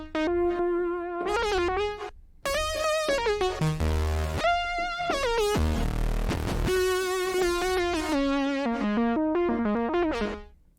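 A bright, buzzy synthesizer lead plays a melodic line of sustained and stepping notes, with a short break and some noisy swells midway.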